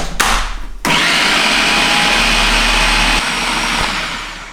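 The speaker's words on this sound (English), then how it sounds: "Give that another blitz." A food processor blitzes hummus with a loud, steady whirring motor drone that runs for about four seconds after a brief start-stop, no voices over it.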